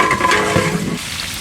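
Small onions, a full kilo, sizzle and fry in a large pot of mutton biryani, with stirring scrapes over a steady loud hiss and no voices.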